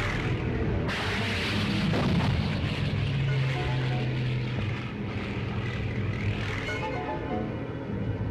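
A fighter plane fires a large aircraft rocket on the Pacific island of Iwo Jima, a loud continuous roar of engine and blast noise with a sudden surge near the start and a sustained rumble throughout.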